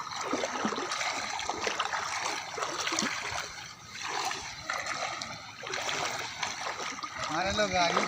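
Floodwater in a flooded Bihar village, with people wading through it: continuous splashing and stirring water close by, steady and loud throughout, mixed with talk and crowd voices.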